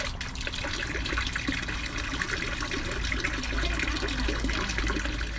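Water from a boat's air conditioner discharge pours out in a steady, continuous trickling stream, close and fairly loud, with a low hum underneath and no talking.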